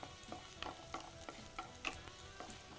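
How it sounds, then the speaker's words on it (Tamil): Garlic frying in a pan, a quiet steady sizzle broken by scattered light taps and scrapes of stirring, with no talking. "பூண்டு வந்து ரொம்ப ஃப்ரை ஆகாமல் கரெக்டாக வறுக்கணும்."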